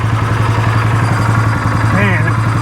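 A Polaris Sportsman ATV engine idles steadily and loudly up close, a low even chugging rumble with faint clatter, while someone talks briefly over it near the end.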